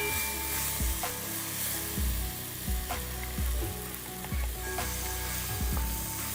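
Loud, steady sizzling of ginger garlic paste frying in a hot pan for Indian chicken curry, with repeated scraping stirs at a regular rhythm and no talking.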